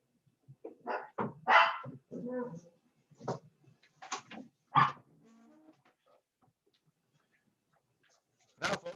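A dog under a bed gives a run of short, close barks mixed with whimpering yelps in uneven bursts, then falls silent before one final sharp bark.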